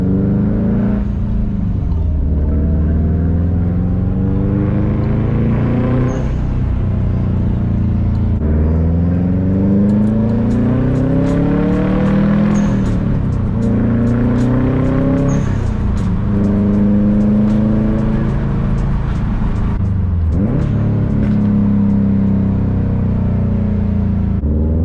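Subaru WRX STi on a test drive after a transmission and center differential fluid change, its engine loud and close inside the car, rising repeatedly through the gears with audible shifts between steady pulls, accelerating hard several times.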